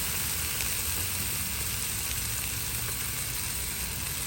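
Lamb chop searing in oil on a backyard barbecue grill, giving a steady, even sizzle with a faint hiss throughout and no talking.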